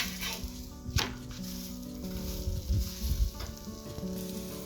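Aloo paratha frying in plenty of oil over a high flame, a continuous bubbling sizzle with occasional sharp clinks and scrapes of a spatula against the pan, close and moderately loud, no speech.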